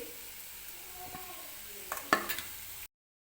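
Fried potatoes scooped out of hot oil in a kadai into a vessel for potato kurma, with soft scraping, a faint sizzle and a few sharp clinks of the spoon near the end.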